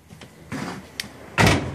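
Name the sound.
Subaru car door closing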